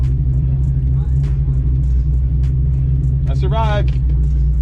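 Ford Mustang Foxbody with a Trick Plus Stage 1 cam idling, a steady loud low rumble with lumpy cam chop running throughout while people talk over it.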